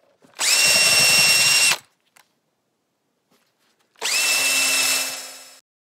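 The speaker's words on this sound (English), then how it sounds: "as you drill the holes for the screws" A power drill whirs loudly in two separate bursts, drilling screw holes in wood for boat chines, each lasting over a second, with a high steady whine and a short quiet gap between them.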